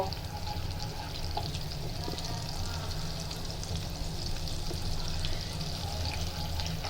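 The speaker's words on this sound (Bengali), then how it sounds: "বাকি 200 গ্রাম সেমাই এখন আমরা আবার ভেজে নেব।" Lachha semai vermicelli fries in butter over a low flame, making a steady, moderate crackling sizzle that continues without a break throughout.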